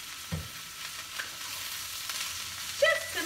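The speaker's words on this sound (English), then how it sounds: "this is in our skillet, and we're gonna stir, stir, stir." Egg roll in a bowl mixture with olive oil sizzling in a skillet over medium-high heat, a steady quiet crackle broken by the scrape and clink of stirring.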